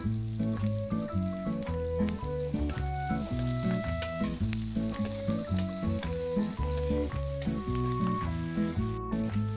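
Whole garlic cloves sizzle and fry steadily in hot oil for an eggplant curry, with bright crackling spatter close by and a few clinks, and no talking.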